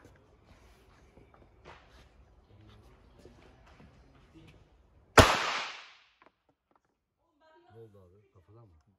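A single sharp gunshot at an indoor shooting range rings out loud and close, decaying over about a second, with quiet chatter before and brief voices after.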